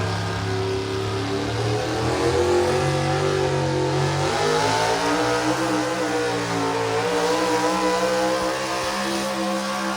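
A heavily modified pulling tractor roars at full throttle during a New York tractor pull, loud and sustained, with the engine pitch rising and wavering as it drives down the track.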